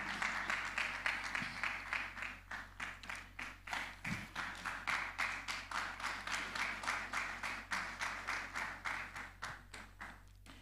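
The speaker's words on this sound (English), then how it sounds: "a round of applause for them" A small group at an afternoon biotechnology conference session claps at a steady rhythm, the sharp claps evenly spaced and moderately loud, with a faint voice briefly underneath.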